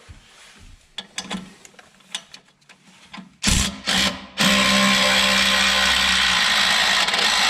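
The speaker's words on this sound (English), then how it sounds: "now next we're going to remove the lower shock bolt" Lower shock bolt being removed on a Jeep Gladiator during a 2-inch Iron Rock Off Road lift kit install: scattered ratchet clicks, then a few loud bursts and a long, steady, loud whirr of a power tool running near the mic.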